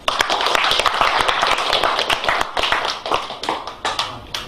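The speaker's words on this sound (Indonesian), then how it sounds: "Tepuk tangan Pak" Audience applause at a 2016 creative economy business grant handover ceremony, a dense crowd of hands clapping steadily and loudly throughout, close and continuous with no voices over it.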